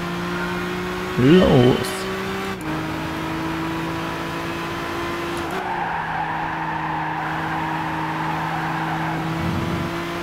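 A race car lapping in Gran Turismo 6: a steady, sustained engine drone holding pitch, with a brief rising rev near the start and a soft tire squeal later, while a voice calls out once.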